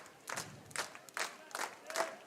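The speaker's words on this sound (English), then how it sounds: "Crowd starting another clap." A baseball crowd at a minor league game between the Great Falls Voyagers and Glacier Range Riders claps in a slow rhythmic pattern, five distinct bursts of claps echoing across the stadium, with no talk over them.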